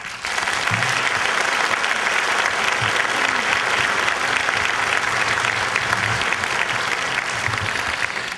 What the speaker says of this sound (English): join me by giving another round of applause for our teachers